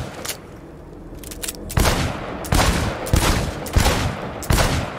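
Rapid bursts of gunfire on a timed shooting range in the video game Cyberpunk 2077, loud and close, with several clusters of shots coming in quick succession and short gaps between them.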